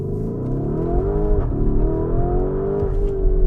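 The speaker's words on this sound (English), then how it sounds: "what's the Urus like to drive? Well, it goes a little something like this." A Lamborghini Urus SUV engine accelerates hard, rising in pitch through a gear change with a brief dip before revving up again, close and loud throughout.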